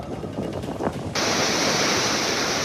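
Monsoon floodwater rushes through overflowing rivers and streams in Nagpur, East Vidarbha, as a continuous close roar that jumps louder and brighter after an abrupt shift partway through.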